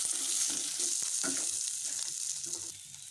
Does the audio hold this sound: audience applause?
no